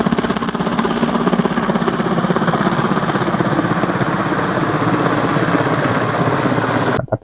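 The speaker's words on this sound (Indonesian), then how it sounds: "gue sempat ngeliat dan mendengar pesawat helikopter bawa tong berisi air" A helicopter carrying a water bucket for forest-fire fighting passes overhead in dry-season Indonesia, its steady rotor chop loud and continuous for about seven seconds before cutting off abruptly.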